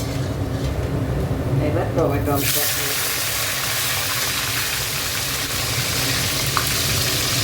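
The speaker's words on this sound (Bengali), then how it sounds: "আর একটু দেখো জিরে ফোড়ন দিয়ে দিলাম।" Cumin seeds dropped into hot oil sizzle and crackle loudly, settling into a steady broad frying hiss that runs throughout, with a brief spoken word over it.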